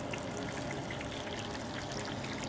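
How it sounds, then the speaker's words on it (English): Water pours steadily into a DIY outdoor compost bin filled with cardboard, newspaper and food scraps, a continuous broadband splashing rush at low level throughout. "I'm gonna add some water to this."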